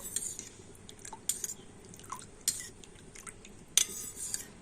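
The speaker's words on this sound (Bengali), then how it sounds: "জল আর ভিনিগারটা একটু ভালো করে মিশিয়ে নেব" A spoon mixes vinegar and water in a bowl, making a few sharp, bright clinks against the bowl spread irregularly over quiet, soft stirring and faint liquid swishing close by.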